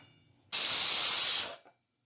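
A pressure cooker vents steam in one loud, sharp hiss that bursts in suddenly, holds for about a second, then cuts off and fades quickly.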